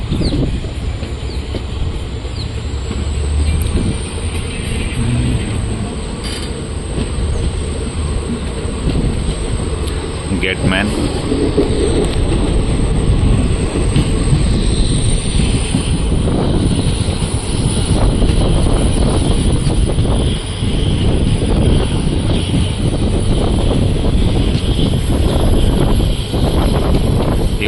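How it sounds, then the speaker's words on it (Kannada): A passenger train running on an Indian line toward KRS station, a steady loud rumble of wheels and carriage noise that fills the whole stretch, with a voice speaking briefly over it. "ಟ್ರೈನ್ ಮಾರ್ಚ್ ಆಗ್ತಾ ಇದೆ"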